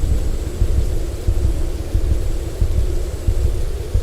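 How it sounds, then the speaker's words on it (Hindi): Storm wind and thunder as a sound effect in an animated Hindi horror story, with a dusty windstorm approaching: a steady, loud roar of wind and rain-like hiss carrying repeated low thunder rumbles throughout, no voices. "उसे एहसास होता है कि उसके पीछे धूल भरी हवा का तूफान उसकी ओर आ रहा है"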